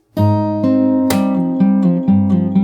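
Fingerstyle guitar plays the opening of a song's chorus: a few plucked chords and notes ring out close and loud after a short silent start, with one bright accented strike midway and no voices.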